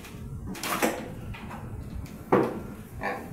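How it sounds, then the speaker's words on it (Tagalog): A cabinet door in a small home kitchen opens and shuts close by: a few short wooden knocks and clacks, one sharp bump landing partway through, with the room otherwise quiet. "Cabinet."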